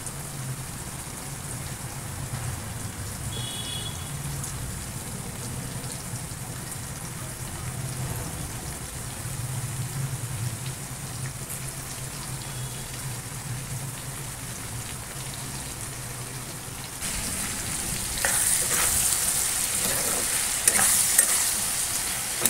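Soybean curry sautéing in a pan: a steady, close frying sizzle runs throughout, with louder scraping and stirring clatter building toward the end. No one speaks.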